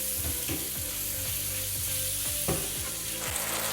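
Onions frying in a pan for Palestinian musakhan are stirred with regular scraping strokes, roughly two per second, over a steady close sizzle, with no talking.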